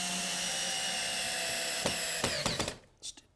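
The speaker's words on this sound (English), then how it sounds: "I'm going to attach these together with some 3-inch screws" Cordless power drill whirring steadily as it drives 3-inch screws into 2x4 lumber for a wall frame, a continuous motor whine that ends with several sharp clutch clicks before stopping.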